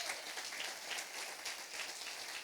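Church congregation applauding together, a steady wash of clapping that fills the space evenly and stays at a constant moderate level throughout.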